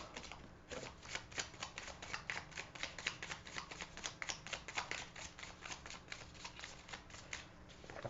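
Tarot cards being shuffled repeatedly, a quick run of crisp riffling flutters close to the microphone with no talking.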